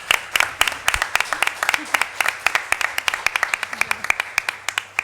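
A small audience claps for Óscar, an editor, at a book event: a steady patter of individual hand claps at close range, fairly sparse and uneven rather than a roaring ovation.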